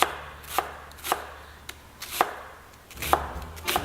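A knife chops and minces food on a cutting board for braised beef with mashed potatoes: sharp irregular knocks, about eight distinct strikes over a low background hum, close and alone without talk.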